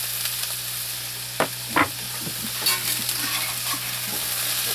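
A garden vegetable stir fry with salted tomatoes and hot pepper sizzles steadily in a pan over an off-grid homestead fire, a continuous close hiss broken by a few soft knocks and scrapes of stirring.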